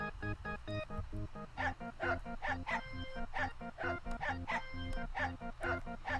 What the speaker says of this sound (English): That is dog music